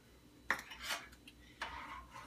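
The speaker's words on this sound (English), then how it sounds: "I'm going to stir this in, make sure it thoroughly blend it" A spoon clinks against a glass while sugar is stirred into tea for bourbon lemonade iced tea: a few sharp taps and short scraping swirls, close and fairly quiet, with no voices.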